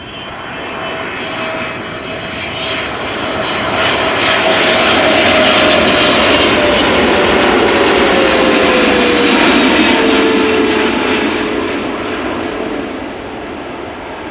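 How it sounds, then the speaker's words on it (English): A Boeing 777-300 or freighter jet passes on short final at Amsterdam Schiphol, a loud broad roar swelling in over several seconds with a falling whine, peaking mid-pass and easing off as it moves away, no talk. "Now the 300s and the freighters always have this nice zooming sound when they pass by."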